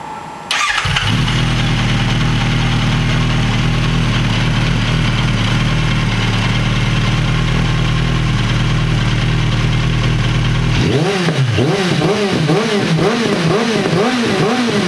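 A Suzuki Bandit 1250 motorcycle engine with a Jeskap exhaust fires up abruptly and idles loudly with a steady rumble, then revs repeatedly in rising and falling surges near the end.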